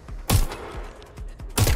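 Gunfire in the video game Watch Dogs Legion: two loud, heavy bursts of shots with lighter, thudding reports spaced between them, all close and punchy.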